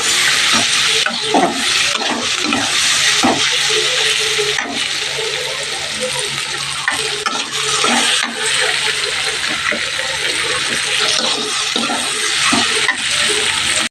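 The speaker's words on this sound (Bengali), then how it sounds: "সবজিগুলো কেটে রেখেছিলাম সেগুলো আমি একটু ভেজে নিচ্ছি নুন হলুদ দিয়ে" Chopped vegetables fry in white cooking oil with salt and turmeric, giving a continuous loud sizzle and hiss with repeated scraping and stirring throughout.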